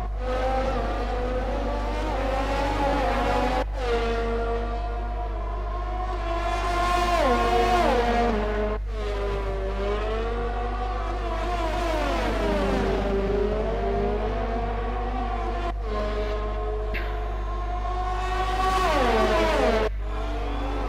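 Honda-powered Formula One car screaming at high revs in the F1 2020 video game, a loud, sustained engine whine with rising and falling gear-change sweeps and sharp upshift breaks throughout, no voices.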